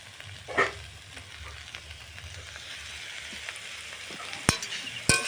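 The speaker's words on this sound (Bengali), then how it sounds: "তো চলো আরও কিছুক্ষণ ধরে নাড়াচাড়া করে নিই।" Steady sizzle and frying of a mixed winter vegetable charchari with eggplant being stirred in a pan, a continuous close hiss with a few sharper scrapes near the end, no talking.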